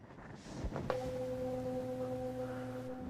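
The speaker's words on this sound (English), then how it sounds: "tuning fork against what's called a sounding board to improve my ability to hear the vibrations" A struck tuning fork pressed against a flat sounding board rings out after a brief knock, holding a steady pure tone with soft overtones over quiet background noise.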